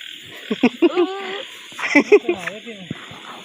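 Frogs croak near a pond while frog-bait fishing, a series of short pitched calls in two bursts close to the microphone, with a steady high insect-like hiss behind them.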